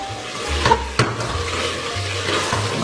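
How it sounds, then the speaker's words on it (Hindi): Masala fries in separated oil for mutton paya with onion, a close bubbling sizzle broken by a couple of sharp spoon knocks and stirring scrapes, no speech. "मैंने मसाला जो है वो अच्छे तरीके से भून लिया है"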